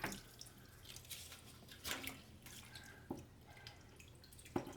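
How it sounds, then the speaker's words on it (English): Water poured from a bucket onto moss and rock in a fish tank, coming through as soft, faint dripping and trickling with a few brief splashes, heard alone. "just let it pour out on the rock, because then you get less disturbance with the substrate"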